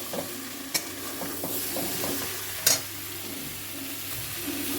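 Prawns sautéing in a pan with tomato, cumin, coriander, ginger and salt, a steady close sizzle broken by scraping stirs and a few sharp clinks of the spoon against the pan.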